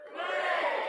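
Festival audience at a poetry event shouting a loud, unified hooray, one short burst of massed voices swelling and holding.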